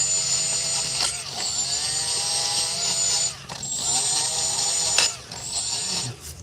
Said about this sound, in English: just cleaning up the brake carrier, getting all the brake dust out of it